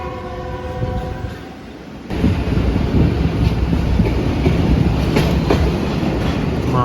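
A Pakistan Railway Shalimar Express running toward a level crossing between Sheikhupura and Lahore in the morning: steady loud rumble and wheel clatter from aboard, with a sustained horn tone early on, no talking.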